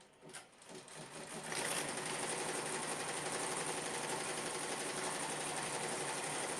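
An embroidery machine stitches an appliqué bookmark, starting with a few uneven taps and then settling into a loud, steady, rapid needle rattle that runs alone to the end.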